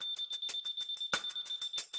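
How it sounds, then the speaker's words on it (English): Beeping from a Leica Lino L2 laser level detector as it finds the correct level, a rapid run of short, evenly spaced high-pitched beeps sounding alone and close by. "The blue LED display illuminates and a beep sounds when you find the correct level."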